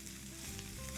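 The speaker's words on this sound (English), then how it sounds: "I do want to give it an additional browning just to crisp up those edges." Suadero beef browns in a pan with a soft, continuous sizzle, faint and close, lasting only a moment.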